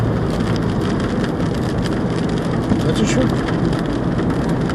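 Heavy rain driven by wind pelts surfaces like light hail in Abovyan, a dense, loud, continuous hiss and patter; a voice speaks briefly underneath.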